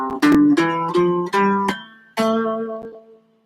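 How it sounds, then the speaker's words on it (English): Electric or acoustic guitar playing an A Phrygian scale, a run of about seven distinct plucked notes, clear and close, each ringing briefly before the next, the last notes fading out. "So if you're going to the Phrygian scale, you're going to start on the A."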